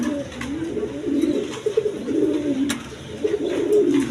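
A pair of American lark pigeons coos in low, rolling, repeated phrases close by, the soft calls overlapping with a faint background and no speech.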